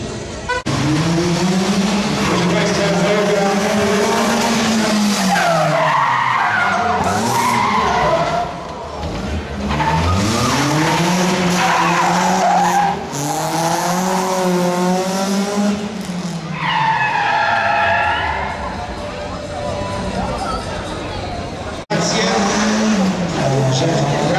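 A BMW rally car at the 2013 Rajd Brodnicki in Poland drives past with a loud, revving engine that rises and falls repeatedly, its tires skidding and squealing as it slides through the stage.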